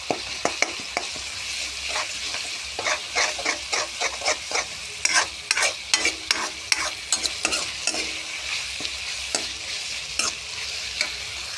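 Jackfruit curry with ginger paste being stirred in a pan, a steady frying sizzle broken by repeated scraping spoon strokes in an irregular rhythm, close and fairly loud with no talking.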